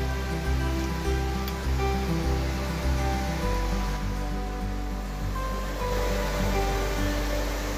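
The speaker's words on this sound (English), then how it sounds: "Good water flow." Creek water tumbles over rocks in a steady, loud, close rush that stays continuous and unbroken throughout, with no voices.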